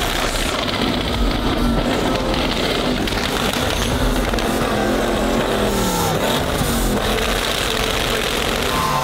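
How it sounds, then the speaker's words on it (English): A golf cart drives along with a constant, loud motor drone and rolling noise that holds steady throughout with no break. "I'm constantly just moving around on my golf cart to not get bit"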